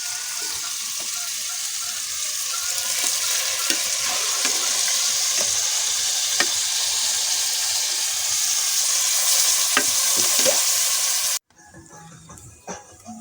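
Bamboo shoots fry and sizzle in a pan while being stirred, a steady close hiss with occasional scraping clicks, then cutting off abruptly near the end to faint background clatter.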